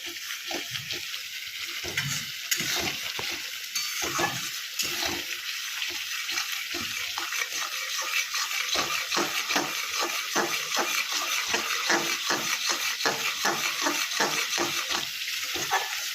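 Spice paste for paneer bhujia stirred and fried in oil in a pan, with a continuous bright sizzle and repeated scraping strokes of a spoon at close range.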